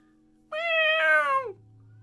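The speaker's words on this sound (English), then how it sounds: "Can you guys hear the cat?" A single cat meows once, a clear, drawn-out call up close, with nothing else but a faint low hum behind it.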